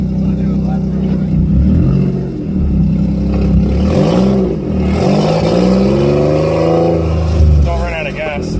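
A Nissan 350Z being driven on a lap, engine revving up and easing off in swells with rising and falling pitch, loud from inside the cabin, with talking over it.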